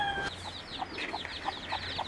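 A wild hen with six chicks, let back outdoors, gives a steady series of soft, evenly spaced clucks, fairly faint and alone with no talk.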